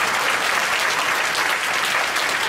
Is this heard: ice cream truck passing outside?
no